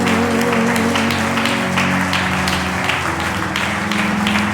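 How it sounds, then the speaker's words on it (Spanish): A church congregation applauds during a Spanish-language service, with a continuous wash of clapping over a sustained musical drone and rhythmic claps pulsing through. "Dale un aplauso grande al Rey"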